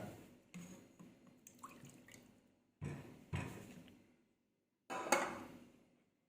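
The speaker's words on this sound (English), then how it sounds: "Then put some water." Water is poured into flour and baking powder for martabak batter in a few separate short splashes and trickles, quiet and close, with pauses of near silence between them.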